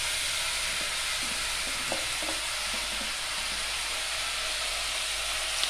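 Onions sauté in a pan for prawn gravy, a steady loud sizzle and hiss throughout with faint stirring scrapes near the start, close up and without speech.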